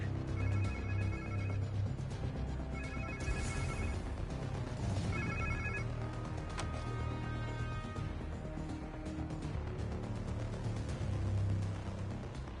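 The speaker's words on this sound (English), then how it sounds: "Sounds like somebody's phone." A telephone rings in repeated bursts in the video game Spider-Man 2, trilling twice and then again, fairly faint under dense, busy game background noise.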